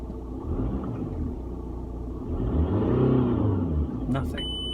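A broken Audi A4 with an empty cooling system runs as it is shifted into drive, a deep steady engine rumble that swells briefly in the middle before settling, with a short high chirp near the end.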